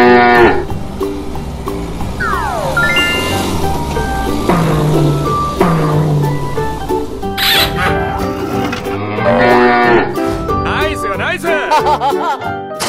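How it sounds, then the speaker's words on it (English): Cow mooing amid a busy mix of cartoonish animal sounds and music, with sliding tones and other creature calls layered throughout. "Cow."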